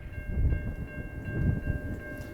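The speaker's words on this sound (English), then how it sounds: "Yeah, freight train pulled by a P42." A slow freight train hauled by a yellow P42 locomotive rumbles past nearby, with a deep, rolling roar that swells and fades and a steady high tone running through it.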